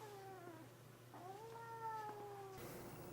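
A cat meows in a drawn-out, wavering cry, sounding close and fairly faint with no other sounds around it.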